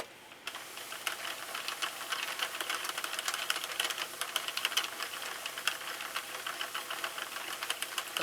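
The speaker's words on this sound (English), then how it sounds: "And now we are going to start cranking." A Sentro knitting machine being cranked with Big Twist value yarn on its loosest tension, giving a steady, close, busy run of rapid clicking and clattering needle-and-gear ticks throughout, with no talking.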